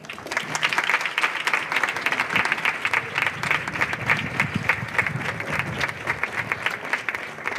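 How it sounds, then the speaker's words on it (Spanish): Audience applause fills the room after a talk at a flamenco and bullfighting music event, steady dense clapping sustained throughout without speech. "darle un fuerte aplauso a don Aurelio Gurrea."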